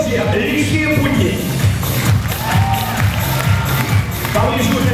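An audience at a KVN comedy show claps and cheers as a team from Zaporizhzhia walks on stage, a dense crowd roar with shouts and clapping over a low hum.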